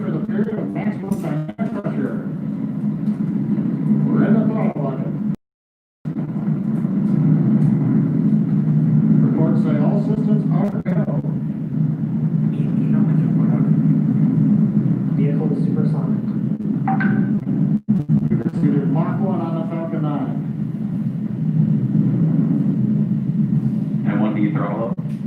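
SpaceX Falcon 9 rocket engines carrying a crewed Dragon during launch give a continuous low, heavy roar, with steady commentary over it and one brief dropout.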